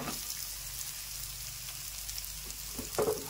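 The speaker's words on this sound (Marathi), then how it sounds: "फ्राय करून घेऊया आपण, जेणेकरून तो जोवर ट्रान्सपरंट होत नाही तोवर कांदा फ्राय करून घेऊया." Sliced onion fries in hot oil with bay leaf and cinnamon, a soft, steady sizzle and crackle close by, with a faint stir or clatter near the end and no talking.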